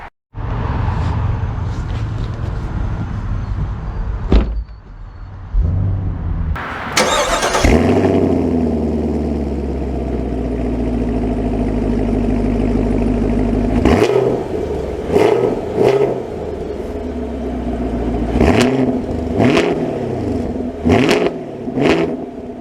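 A new Chevrolet Camaro SS starts with a loud crank and roar, settles into a deep burbling idle, then pulls away with several throttle blips and revving surges, heard close and alone.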